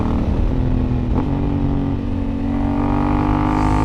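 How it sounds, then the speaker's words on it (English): A Honda Africa Twin motorcycle's engine roars loud and close, the pitch dipping and rising through a quick downshift with a brief blip, under steady wind rush and no talking. "Such satisfying downshifts."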